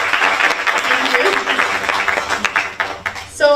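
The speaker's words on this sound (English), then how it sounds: "a round of applause" Audience at an indoor lab event clapping, loud and close, a busy patter of hands that tapers slightly, with a voice speaking over it at the very end.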